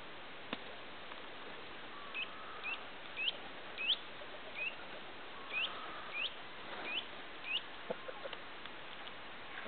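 Small birds chirp in short, scattered bursts, some thin and high, at a moderate distance over a steady outdoor background hiss.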